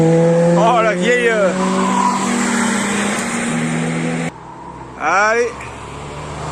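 Race cars blast past on the Nürburgring in Germany, two distinct loud pass-bys with engine pitch swooping down, tire noise, and someone talking briefly between them.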